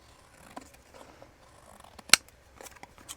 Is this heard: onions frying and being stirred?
no